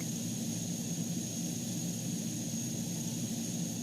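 Airplane engines drone steadily at an airport in the management game Airport CEO, a continuous mid-level jet and propeller hum with no pauses and no talking.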